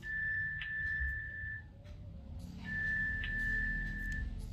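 A thin, high find-device alert tone from an Advan S2 Pro smartwatch sounds steadily for about a second and a half, stops, then repeats over a low background hum.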